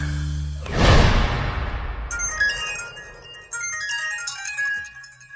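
A phone ringtone sounds in a Bhojpuri film scene: a swoosh first, then a bright, repeating electronic melody that carries on alone at moderate loudness.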